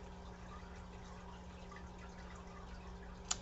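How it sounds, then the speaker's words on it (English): Water from a home fish tank trickles steadily and faintly in the background, a soft continuous wash with a low hum and one brief drip-like tick near the end. "like you can hear my fish tank in the background"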